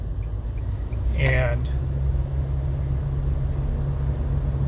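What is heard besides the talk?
car engine noise while driving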